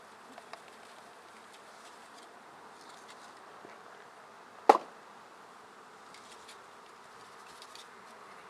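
A swarm of bees hums softly and steadily around an outdoor beekeeping field day, with one sharp loud knock partway through.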